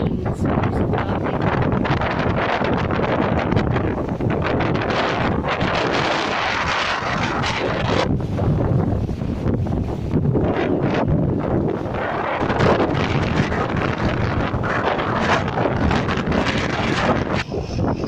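Strong wind blowing at Royal Albert Dock in Liverpool, a loud, continuous roar and buffeting against the microphone that never lets up, with no clear speech.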